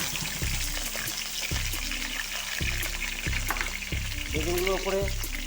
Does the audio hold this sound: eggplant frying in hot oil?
yes